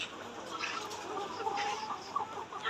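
Layer hens in a poultry shed cluck and murmur in overlapping bursts, a busy, moderately loud flock with no one speaking.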